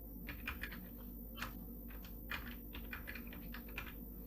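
Typing on a computer keyboard while setting up a C# console application in Microsoft Visual Studio: steady, close key clicks in quick irregular runs over a low room hum.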